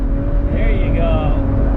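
BMW E92 335i engine with a sticking throttle, a loud close revving drone that swells briefly, heard under talk inside the car.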